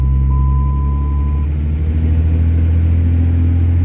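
A car driven just after its failed transmission cooler was repaired; a steady, loud engine and road rumble from inside the cabin, with a brief high tone early on and no speech.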